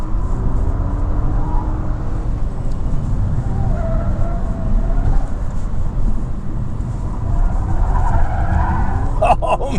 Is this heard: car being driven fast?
yes